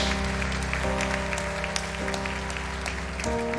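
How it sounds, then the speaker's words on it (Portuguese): A church congregation applauds over sustained organ or keyboard chords, the clapping moderate and continuous beneath the steady music. "Quem pode aplaudir ao nome do Senhor esta"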